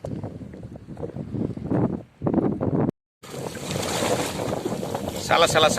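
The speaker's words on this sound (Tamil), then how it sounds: "சலன்னு அடிச்சுதா இந்த தண்ணி." Sea water splashes against a boat at sea off Africa, a loud wash of spray and wind noise rushing over the microphone, joined by the low churn of waves, with a voice speaking briefly early on.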